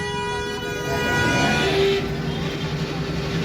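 With the drive wheel raised for a repair check, an e-rickshaw's electric motor whines in a tonal hum that swells in pitch and loudness midway as the throttle opens, then settles back down, heard up close.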